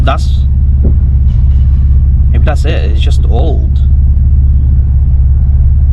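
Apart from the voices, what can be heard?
Porsche Boxster 986 six-cylinder flat engine and exhaust running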